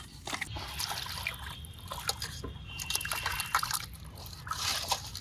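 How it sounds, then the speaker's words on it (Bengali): Small fish being washed with salt by hand, water trickling and splashing in irregular bursts with wet squelches and handling, close and fairly quiet, no voices. "তারপরে এই মাছগুলো লবণ দিয়ে ভালোভাবে ধুয়ে নিলে খুব ভালোভাবে পরিষ্কার হয়।"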